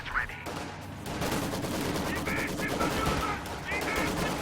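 Maxim machine gun fire in the World War II strategy game Company of Heroes 2: sustained rattling bursts that sound fairly distant, mixed with other battlefield gunfire.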